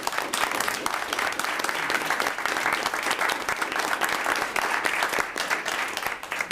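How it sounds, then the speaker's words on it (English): A room of people at a school committee meeting applauds trophy recipients, producing a steady, loud burst of many hands clapping that fills several seconds without letup. "let's give them a round of applause"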